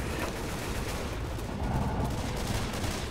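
Dense, continuous gunfire sounds in the Left 4 Dead 2 video game, a steady rattling barrage with no clear breaks between shots.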